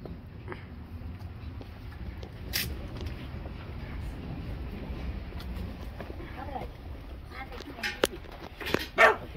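A dog barks and yips several times near the end amid household noise, short sharp bursts close by, while people talk in Spanish throughout.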